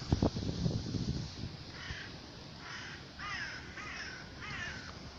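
A crow caws several times in a row, harsh repeated calls at a moderate distance following a few louder knocks and rustles, with no speech over them.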